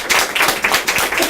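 A crowd claps at a political party's campaign office opening, a dense burst of applause that stays loud and steady for the whole moment, with no speech over it.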